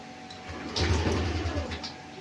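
A Yamaha Aerox or Nmax scooter's fuel pump, fitted with a corroded socket, starts a low, steady hum partway in and keeps droning quietly to the end.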